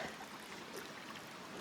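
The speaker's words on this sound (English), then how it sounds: "Water's just steady pouring into the trail off the sides." Water trickling and pouring steadily off the banks into a flooded hiking trail on the Appalachian Trail near Bemis Stream, a soft continuous wash with faint gurgling throughout.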